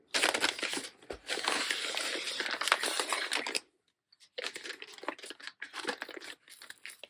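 Wrapping on a small advent calendar gift crinkles and tears in dense, close bursts, stopping briefly near the middle before the rustling and ripping resume.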